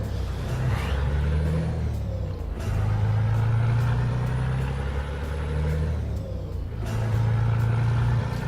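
A DAF truck engine in Euro Truck Simulator 2 drones steadily at close range, its low rumble rising and falling through gear changes with brief pauses between pulls.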